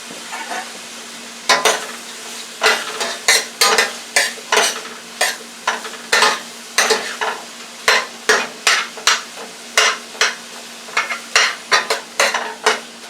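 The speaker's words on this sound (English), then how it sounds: "I'm only going to put garlic on the peppers and onions in the frying pan here." Garlic, peppers and onions sizzle in a frying pan while a utensil stirs and scrapes in quick, regular strokes, loud and close with no talking.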